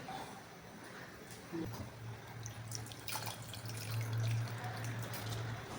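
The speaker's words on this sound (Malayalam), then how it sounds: "ഇനി നമുക്കിതിനകത്ത് പുളിവെള്ളം ഒഴിക്കാം." Tamarind water poured into a pot of simmering sambar, a soft steady liquid pour and splash that builds in the second half, close by and alone with light kitchen background.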